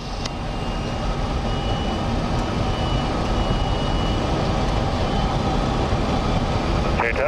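Boeing 737-400 jet engines spool at reduced takeoff thrust, heard from the cockpit as a dense, steady broadband roar that fills the whole span at an even level.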